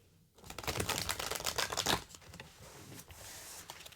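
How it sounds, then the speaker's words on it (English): Oracle card deck being side shuffled, a dense run of crisp riffling card rustles close by, busiest in the first two seconds, then easing into sparser flicks and taps. "I'll side shuffle first."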